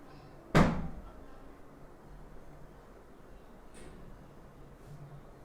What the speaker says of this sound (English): and then close this door?